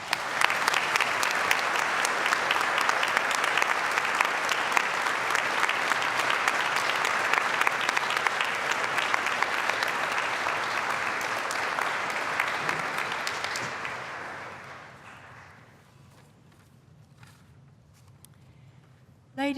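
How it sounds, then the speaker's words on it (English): Audience applause at a UWA graduation ceremony, a dense sustained clapping from a large crowd that fades out over the last few seconds into quiet room noise. "you've clapped your own family member and you've clapped everybody else's as well"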